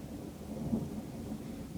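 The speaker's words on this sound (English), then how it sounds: "Thunder, lightning." Thunder and rain during a rare summer storm in Chile, a steady low rumble with rainfall that holds evenly through the short stretch, without voices.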